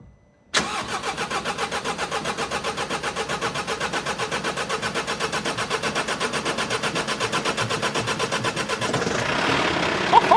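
A van's engine, just reassembled, is started after a moment of quiet, cranking loudly with a rapid, rhythmic churn for several seconds before catching and revving near the end.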